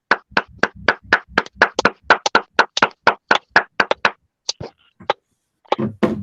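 One person claps alone, about two dozen sharp, close claps in a quick steady rhythm that slows and thins out near the end.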